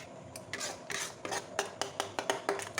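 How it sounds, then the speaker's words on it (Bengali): Chhena (cottage cheese) stirred in a pan over low-medium heat while making mango sandesh, a run of short scraping, rasping strokes in a loose rhythm, close and fairly quiet with no voices. "এবার এটাকে নেড়ে যাবো লো মিডিয়ামে এটাকে নেড়ে যাবো"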